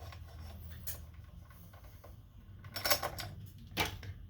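A small Phillips screwdriver works screws loose inside a PS5 console: quiet, scattered ticks and light scraping, then a few sharper clicks near the end, with no voices.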